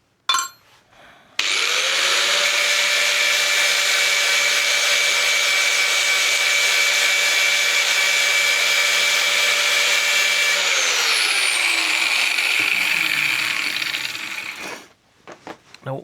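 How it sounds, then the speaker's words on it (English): An angle grinder runs on metal being prepared for welding on a car spare wheel clamp, spinning up to a loud, steady whine held close for about ten seconds before winding down and stopping. "Grinder. A little bit of preparation to weld this, to weld that"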